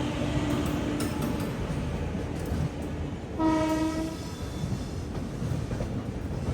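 A WAP-7 electric locomotive from Ludhiana hauling a train past on an Indian railway line, heard from aboard the Swarnajayanthi Superfast Express. A steady rumble runs throughout, with a brief horn sounding partway through.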